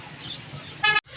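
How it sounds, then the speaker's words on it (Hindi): A car horn gives a short toot near the end, over a low rumble of road traffic near an old flour mill on the Kabul River in Peshawar. "बाकी थोड़ा बहुत ट्रैफिक भी है"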